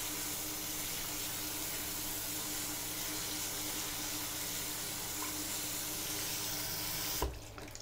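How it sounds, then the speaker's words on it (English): Grains are rinsed in a colander under a running kitchen tap, a steady close hiss of flowing water that carries on evenly, then cuts off with a brief clunk near the end, with no voices. "I'm going to pour my grains in here, and I'm going to rinse for a little bit like this."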